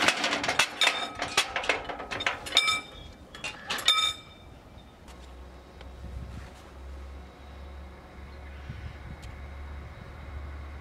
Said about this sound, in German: Hier sehen wir als erstes die Regionalbahn von Weißenfels nach Zeitz einfahren